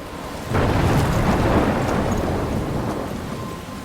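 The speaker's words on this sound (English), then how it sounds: "I'm trapped in a storm?" Thunder rumbles through a heavy rainstorm near a lighthouse in the video game Life Is Strange, a deep roll that swells in loudly and slowly fades over steady pouring rain, with no voices.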